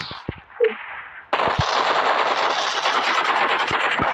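Rapid automatic gunfire from a team shooter video game, a few scattered shots at first, then a dense continuous burst of machine-gun fire running loud to the end.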